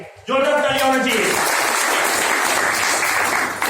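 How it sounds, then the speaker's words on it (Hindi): Loud, sustained applause from a meeting audience, starting abruptly after a brief voice and filling the room with dense clapping that carries on steadily to the end. "जोरदार तालियां होनी चाहिए।"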